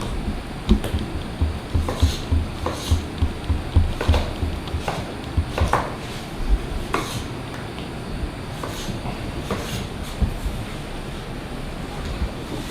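A sharp knife roughly dices tomatoes on a wooden cutting board, giving a run of quick, irregular knocks against a noisy background.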